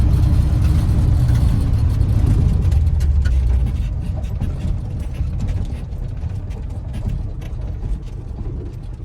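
Ford F600 truck with a freshly rebuilt steering gear box pulling off a gravel road onto pavement, a steady low engine rumble with crunching and rattling that eases slightly partway through, close and with no talk.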